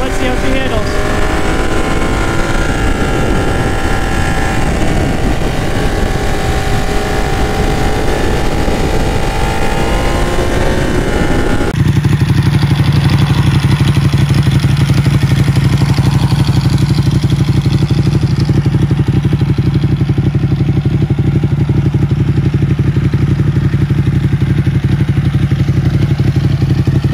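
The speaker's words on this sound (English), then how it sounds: "It's a track bike, so let's see how she handles." Ducati track motorcycle ridden through corners, a loud engine whose pitch rises and falls with throttle for the first stretch, then a steady close drone with heavy wind buffeting; a voice may be faintly present.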